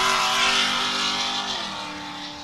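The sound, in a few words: Ultra4 off-road race car launching off the line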